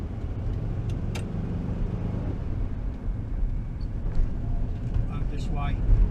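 Engine of a VW T2 bus rumbling steadily as it pulls away for a short drive, a constant low drone close by, with someone talking briefly over it.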